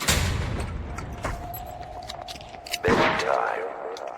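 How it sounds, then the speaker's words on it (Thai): Bomb blast in the online multiplayer horror game Deceit, a loud burst of booming, crackling noise that flares up near the end amid game sounds and players chatting. "นี่ใครวางระเบิดอ่ะ"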